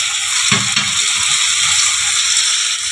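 Chopped tomato dropped into hot oil for a Bengali mourola fish curry, a loud, bright continuous sizzle with a brief splatter burst as the pieces hit the pan.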